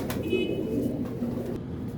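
Soft, low cooing from a nearby Teddy breed pigeon, a few murmured notes over a faint background hum.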